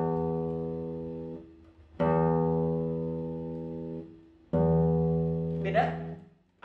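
On classical guitar, three low notes plucked tirando with the thumb ring out in turn, each decaying slowly, with a brief voice heard faintly near the end.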